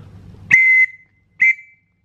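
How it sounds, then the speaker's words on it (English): An antique, earlier-model Metropolitan whistle gives two sharp, shrill blasts: a longer first blast, a short pause, then a briefer second, loud and close, with a little low noise before the first. "compare that with this one, which is an earlier model Metropolitan"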